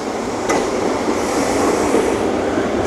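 A Prague tram rolls across a bridge in a loud, steady rumble of wheels and rails, close by and continuous, with a brief metallic click early on and no voices.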